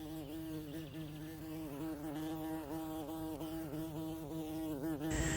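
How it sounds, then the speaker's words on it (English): Steady droning buzz of bees flying close by, a continuous wavering hum with shifting pitch, no voices. "you start seeing the bees flying around"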